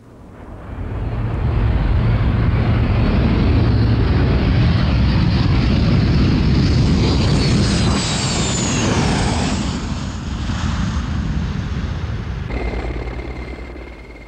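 Helicopter heard from on board over a motorway in 1980, a loud continuous rotor and engine roar that swells and holds, with a rising whine near the end.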